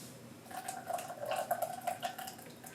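A glue-and-water mixture pours steadily into a container, a thin trickling splash with small gurgles, close and fairly quiet.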